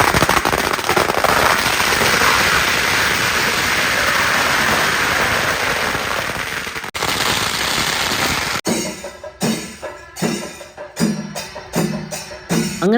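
A long, dense crackle of firecrackers bursting in rapid succession at a church feast in Chalakudy, loud and continuous, then a few separate sharp pops near the end.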